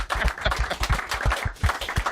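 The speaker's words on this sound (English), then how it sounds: "I'll give a round of applause" An audience gives a round of applause at a TV pitch show, a dense steady patter of many hands clapping at close to moderate distance, with no one talking over it.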